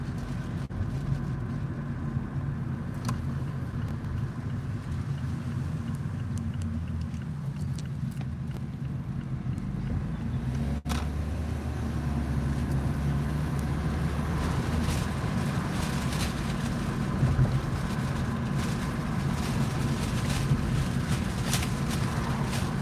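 A car on a short ride, its steady low engine and road rumble droning continuously from inside the cabin, with a brief click partway through and no talking.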